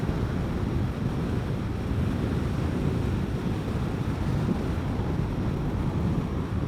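Strong wind roars steadily and loudly against a helmet during a ride on a Vespa GTS 300 Super Sport scooter on a country road, a dense continuous rush with no pauses.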